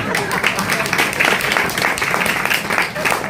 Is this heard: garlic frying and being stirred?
no